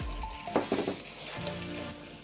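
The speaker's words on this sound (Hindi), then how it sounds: "अब हमने इसमें चिकन ऐड कर देना है और इसको 10 मिनट के लिए अच्छी तरह से भून लेंगे।" Chicken frying in masala in a pan for an iftar meal, a low sizzle with a few louder bursts of scraping and stirring early on, close up with no talk.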